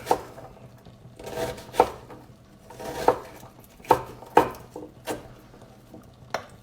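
Knife chopping down through onion on a wooden cutting board, a series of sharp distinct knocks at uneven intervals with softer scraping between them, close and fairly clear.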